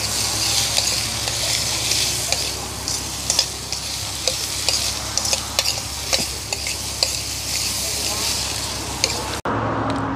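Food sautés in a pot over an outdoor cooking fire, giving a steady, close sizzle broken by repeated stirring scrapes and clicks, then cutting off abruptly near the end.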